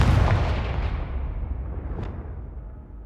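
An explosive Confringo spell goes off in the Hogwarts Legacy video game, a loud booming blast that fades out over about three seconds, followed by a faint small pop.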